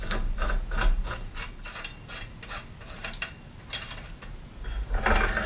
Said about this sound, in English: all we have to do is loosen and remove the nut, then the top cone